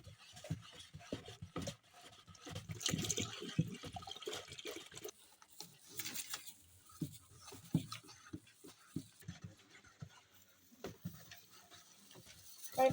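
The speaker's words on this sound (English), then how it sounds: "So now we're going to add the light ash inside the sulfate." Dissolved light ash solution poured into a sulfate solution while making laundry tablet soap, with an irregular liquid splashing and gurgling that rises and falls in close bursts.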